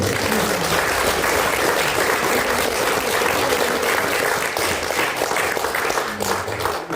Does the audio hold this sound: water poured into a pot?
no